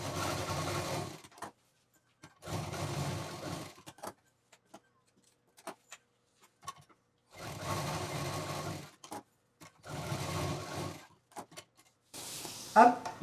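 Sewing machine joining fabric pieces of a kids' exam bag, running in several separate bursts of steady rapid stitching with quiet pauses between them.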